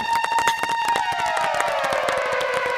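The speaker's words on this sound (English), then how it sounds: "Oh yeah, clap it up, everybody." Audience clapping at a men's mental health podcast recording, a dense steady patter of many hands running the whole stretch, mixed with a falling tonal whine and cheering.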